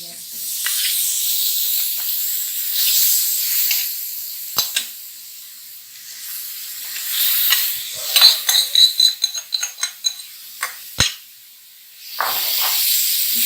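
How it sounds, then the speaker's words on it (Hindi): Raw chicken tikka pieces spread across a tawa griddle over a low flame give a soft, steady hiss and faint sizzle, with scattered clicks and taps of the pieces being placed. "ये सारे जो पीसेस हैं चिकन के ये तवे पर इस तरह से फैला देंगे।"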